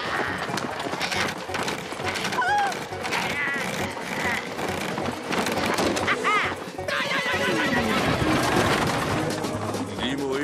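Cartoon horses whinny loudly and repeatedly after being unhitched from a stagecoach, with clip-clopping hooves and busy effects throughout a steady, close soundscape.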